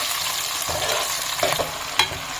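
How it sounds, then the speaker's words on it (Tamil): Small shallots sautéing in hot oil with fenugreek seeds for a village-style mutton curry, a steady close sizzle with several spatula stirs and one sharp clink against the pan. "சின்ன வெங்காயம் போடணும். நல்லா சிவப்பாக வதக்கணும்."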